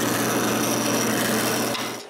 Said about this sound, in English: The first thing I have to do is to rip a thin strip of maple.